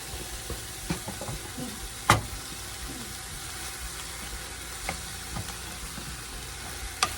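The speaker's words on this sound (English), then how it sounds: "All right, we're going to put our potatoes in here." Potatoes fry in a pan with a soft, steady sizzle, broken by a few faint utensil clicks and one sharper knock, with no voices.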